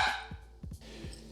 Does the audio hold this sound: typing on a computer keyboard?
no